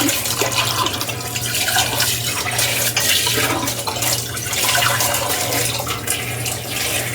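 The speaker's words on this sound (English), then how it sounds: "So I'm gonna pour a little bit of water into the jars." Water is poured into canning jars for black beans, making a steady, loud, continuous splashing rush that runs the whole length without a break. A low hum from the kitchen sits underneath.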